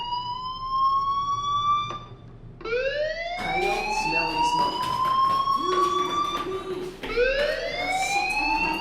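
A fire alarm wails in the video game Life Is Strange, its rising-and-falling electronic tone repeating loudly in several sweeping cycles with brief breaks between them, and no talking over it.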